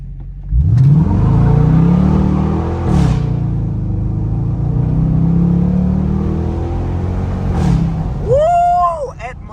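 A Dodge Demon 170 engine revs hard and accelerates in first gear, a loud close roar climbing in pitch with gear-shift breaks and a screeching tire squeal near the end, with someone shouting over it.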